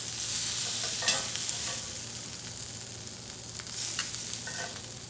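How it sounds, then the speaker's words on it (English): Shrimp sizzle on a grill pan with a steady, bright hiss and crackle, broken by occasional scraping and clinking as they are moved, close and moderately loud, with a low hum underneath. "I just have 2 more shrimp on here that need to cook."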